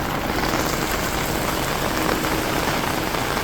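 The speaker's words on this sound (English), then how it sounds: "That is how heavy it is raining." Heavy rain in Benidorm pours down in a dense, constant roar, spattering hard on surfaces without letup.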